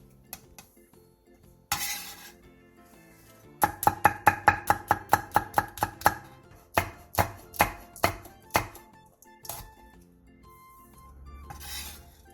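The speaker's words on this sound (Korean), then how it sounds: "대파 3분의 1개와 청양고추 1개, 청양홍고추 1개를 쫑쫑 썰어주세요." A knife rapidly chopping green onion and Cheongyang chili peppers on a cutting board, a quick run of regular sharp chops followed by slower, louder individual cuts and a few light clinks, no voices.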